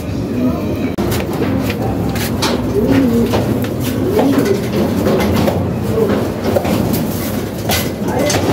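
Soft pigeon coos murmur close by at a pigeon race, amid a busy, steady background of clattering and rustling, with voices faintly mixed in.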